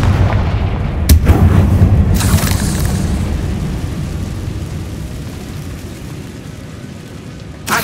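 Confringo fire blast spell in Hogwarts Legacy, a loud booming burst followed by a second crack, then a long crackling, roaring tail that slowly fades before another thump at the end.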